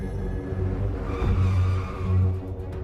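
A car speeds along with its engine droning and tires hissing, loud and close, with a rising rumble through the middle and no talking.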